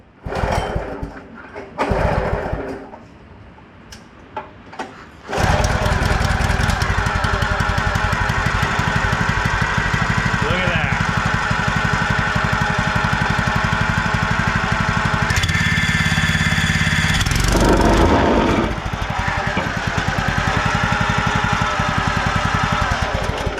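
A cheap auction Wacker plate compactor's small engine is started after a few quiet pulls, then runs loud and steady with a continuous rough drone and a brief rise in pitch partway through.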